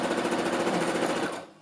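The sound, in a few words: sewing machine stitching the sleeve of a baby frock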